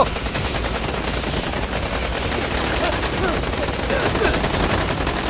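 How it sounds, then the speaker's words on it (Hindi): Rapid automatic gunfire rattles on without pause in dense, rhythmic bursts, loud and close throughout. "फायरिंग बंद करो।"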